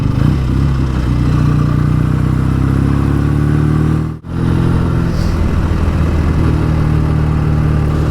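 A 1960s BSA A10 650 Super Rocket motorcycle ridden on the road, its engine a loud, steady close drone with shifting pitch as it pulls, briefly dipping out once before resuming.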